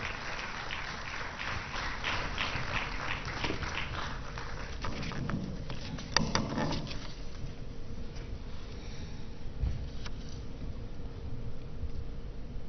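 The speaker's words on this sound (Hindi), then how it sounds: "जोरदार तालियों से मैडम का स्वागत किया जाए।" Applause welcoming President Droupadi Murmu at the FINE 2023 inauguration ceremony, a steady, sustained clapping from a large audience that fills the hall at moderate loudness throughout, with no voices over it.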